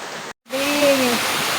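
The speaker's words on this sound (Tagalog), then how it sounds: "grabe yung ulan ngayon" Dense, steady broadband rush of heavy typhoon rain in Batangas, Philippines, briefly cut to silence near the start, with a faint voice-like tone over it.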